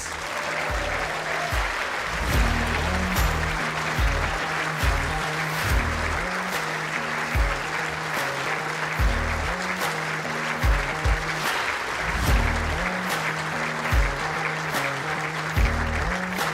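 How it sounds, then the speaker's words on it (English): Audience applause fills an indoor arena at the World Indoor Bowls Championship pairs final, a steady, sustained crowd clapping over about sixteen seconds, with a faint voice briefly audible underneath. "Continue that applause, ladies and gents, for your runners-up, Stuart Anderson and Darren Burnett."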